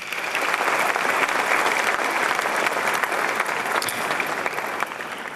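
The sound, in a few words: audience applause at a lecture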